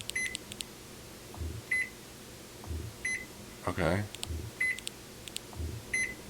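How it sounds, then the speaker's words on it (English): A refrigerator in a video game gives a series of short, sharp electronic beeps in a repeating pattern, with low thumps and a mechanical swell midway. Someone speaks a brief word. "It's just a fridge? And it beeps."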